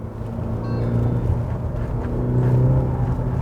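A 2020 Cadillac CT4 accelerating through a corner in third gear, its engine a steady, close drone that rises slightly in pitch toward the end, heard from inside the cabin without talk.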